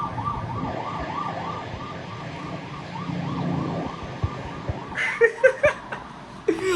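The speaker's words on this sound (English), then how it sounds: "There's a ambulance there." An ambulance siren passing outside, its wailing rise-and-fall tone steady and moderately distant, followed by a few louder warbling bursts near the end, with no talking.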